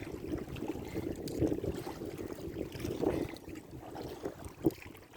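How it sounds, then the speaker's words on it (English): A sit-on-top kayak paddles along a river into a headwind, with close, rhythmic water splashes and strokes under steady buffeting wind noise. "Sit on top kayak, trying to keep the nose straight. It's that headwind."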